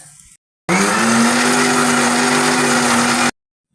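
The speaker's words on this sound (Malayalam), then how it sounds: "നമുക്കിതൊന്ന് അരച്ച് ചേർക്കാം" A mixer grinder whirs steadily through a cumin paste for a mango pulissery curry, starting abruptly after a brief pause and running loud and even for under three seconds before cutting off.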